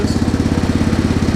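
A Cub Cadet engine idles close by with a loud, rapid, even low putter.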